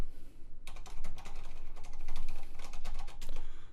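Rapid keystrokes on a computer keyboard while entering web addresses into an Excel spreadsheet, a steady close-up clatter of separate clicks that starts after a brief pause and carries on alone without any talk.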